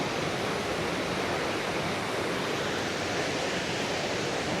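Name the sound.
waterfall, Soochipara Falls in Wayanad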